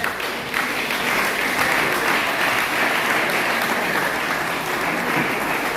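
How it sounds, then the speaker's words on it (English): Sustained audience applause for fathers attending a school seminar for examination-class students, steady and fairly loud throughout with dense clapping filling the hall. "Let's clap for them"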